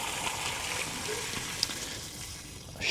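Water poured out to change a window-cleaning bucket, a continuous splashing rush that thins toward the end before a louder gush, with no talking.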